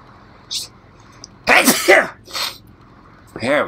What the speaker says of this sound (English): Sneeze, fucker!